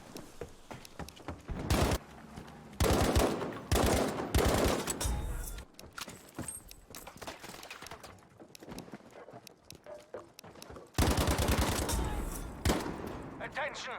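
Rapid bursts of automatic gunfire from an STG 44 rifle in the Battlefield V beta, loud repeated volleys separated by short quieter gaps, with in-game battle noise between shots.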